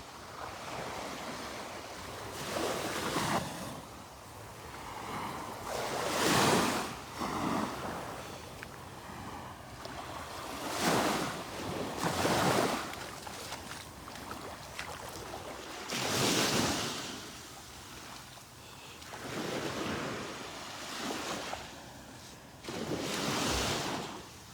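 Gulf surf rolling in on the beach at Delnor-Wiggins as the tide comes in, repeated surges of crashing and washing waves every few seconds, close and fairly loud with wind buffeting the microphone, no talk.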